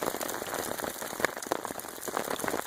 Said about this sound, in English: Just this freezing rain, wintry mix